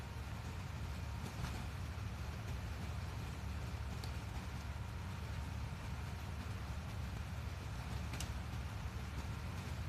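A farm machine engine in the video game Farming Simulator 19 drones steadily with a deep, rumbling hum, broken by a few faint mechanical clicks at irregular moments.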